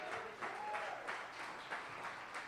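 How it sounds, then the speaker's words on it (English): A comedy club audience at a live stand-up show in Cleveland applauds, rippling bursts of clapping rising and falling at moderate distance under faint voices. "Give yourselves a round of applause."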